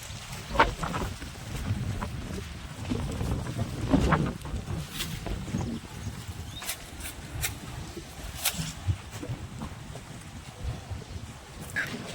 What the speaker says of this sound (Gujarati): ઝીણો ઝીણો વરસાદ ચાલુ છે